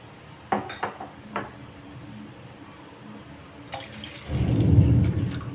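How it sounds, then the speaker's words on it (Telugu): Water is poured from bowls into a pan on a stove, a steady splashing pour in the last second or so, after a few light clinks and knocks of kitchenware. "ప్యాన్ ఈ విధంగా స్టవ్ మీద పెట్టి మనం తీసుకున్న ఆ 4 బౌల్స్ ఆఫ్ వాటర్ని ఈ ప్యాన్లోకి మనం ముందు పోసేయాలి."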